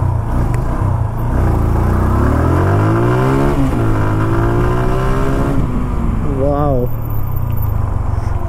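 An old TVS Apache RTR 160 2V BS3 motorcycle engine revs up and down several times, loud and close, with pitch rising and falling in repeated sweeps over a steady idle rumble.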